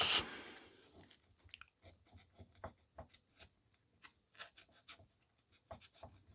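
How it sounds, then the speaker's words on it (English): Small brass legs on a Fairbanks magneto are cleaned with close, quiet rubbing and scraping strokes in irregular bursts, after a brief louder scuff at the start. "So we're just going to clean up these little brass legs."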